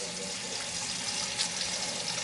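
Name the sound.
tap water running while washing dishes in sink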